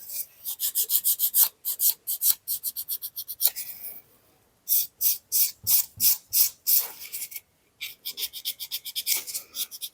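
A file or buffer rubs back and forth over a glitter inlay nail surface in quick rhythmic strokes, close and crisp, pausing briefly between bursts.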